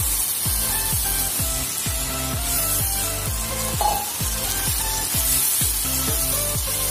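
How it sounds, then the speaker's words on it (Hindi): Spiced masala sizzles loudly and steadily in a pan as chickpeas for chole go in, with a regular rhythm of stirring scrapes running under the constant frying hiss. "अब इसमें डालेंगे चना।"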